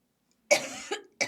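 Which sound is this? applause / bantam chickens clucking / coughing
coughing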